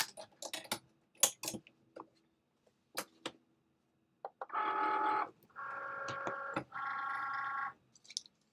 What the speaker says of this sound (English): now we're going to load that mat with our medium tip in the machine